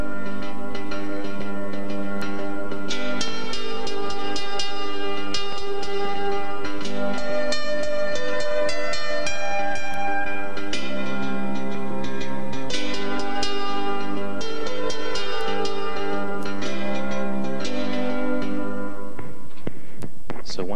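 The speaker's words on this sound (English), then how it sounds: "that is the melody of steel guitars, with all of the notes still intact" A steel guitar plays a melody with sustained, gliding notes over a continuous accompaniment, loud and steady throughout with no voices.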